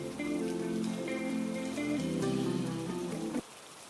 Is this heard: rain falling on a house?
yes